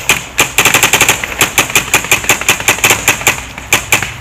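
Paintball markers fire across an outdoor field in quick, loud, close volleys of sharp snapping shots, rhythmic and nearly continuous, with brief gaps between bursts.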